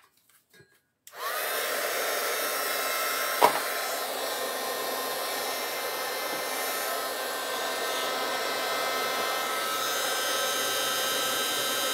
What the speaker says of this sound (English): bear with me while I heat this. It's going to be a little noisy for a minute.